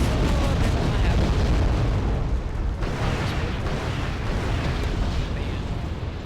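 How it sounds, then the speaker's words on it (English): Havoc attack helicopter's 122mm rockets exploding in Wargame European Escalation, a continuous heavy rumbling roar of blasts that holds loud throughout with a slight dip midway. "Bam. 3 rockets, and it's dead. All those 122mm rockets."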